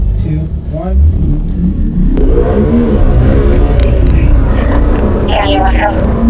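A Chevrolet Corvette C8 pulls hard from a standing start without launch control, its engine a loud, close, rising roar that builds over several seconds while a voice talks over it.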